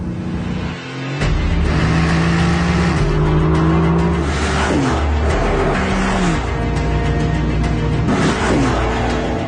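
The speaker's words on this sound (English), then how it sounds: "This car also has a V8, but it's a brand new one, and it's a much more modest 4 litres." A Mercedes-AMG GT with a 4-litre V8 accelerates hard, its engine note rising through several gears with clear shifts and loud, close revving throughout.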